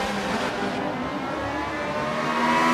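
A race car in Forza Motorsport 7 braking late into turn one at Monza, its engine note steady and loud throughout with no voices, dense and continuous with a slight rise near the end.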